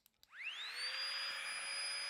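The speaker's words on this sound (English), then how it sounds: "So I've just got my pump in my sleeping pad, a couple of clicks" After a couple of quick clicks, a Flextailgear Tiny Pump 2X spins up to a steady high-pitched whine while inflating a sleeping pad, holding a constant electric drone close by.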